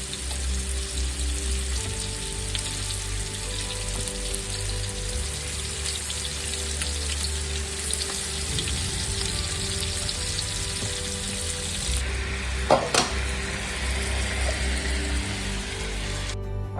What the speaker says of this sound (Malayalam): സെക്കൻഡ് ട്രിപ്പ് ചിക്കനും ഫ്രൈ ചെയ്യാൻ വേണ്ടി ഇട്ട് കൊടുക്കുവാണ്